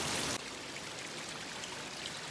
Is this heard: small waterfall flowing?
yes